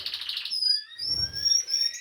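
Pet canaries in a breeding setup sing in quick trilled bursts and thin whistled notes, the opening trill followed by sustained tones over a soft, low rustle.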